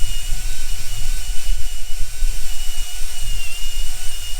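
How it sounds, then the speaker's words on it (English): A high-pitched power drill whines steadily as the bit bores in, a continuous loud mechanical hum with slight wavering. "Is that drilling out? Yeah. This is one of my good drill bits."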